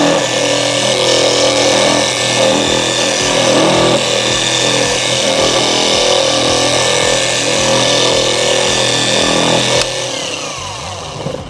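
A car-detailing polishing machine spins a pad at low speed inside a Lake Country pad washer, a loud steady motorized whir with a faint rhythmic pulse, running alone and then easing off near the end.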